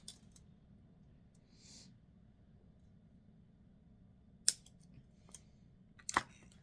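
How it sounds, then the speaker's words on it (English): Wire cutters snip off excess wire while a herringbone ring is made, giving two sharp, close clicks late in an otherwise quiet stretch with faint handling noise. "I'm going to snip this off because it will get in your way"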